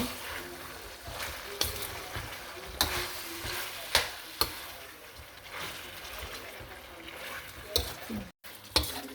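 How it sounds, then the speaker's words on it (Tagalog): A spatula scrapes and stirs pork salpicao in a sizzling frying pan, with intermittent clacks and scrapes over a soft background sizzle. "So, ayan, haluin lang natin."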